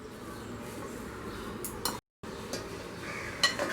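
A spoon stirs falafel mixture with cumin seeds and salt in a bowl, giving soft scraping strokes and light clinks against the bowl with a brief pause partway through. The sound is close and fairly quiet.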